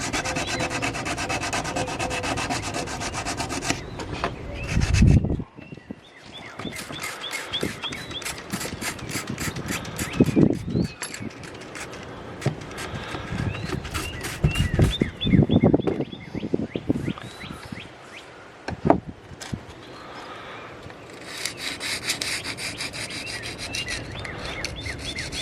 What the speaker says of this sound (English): I'm just mostly getting it smooth, because when I get to the 600 grit, I'll stay with this direction.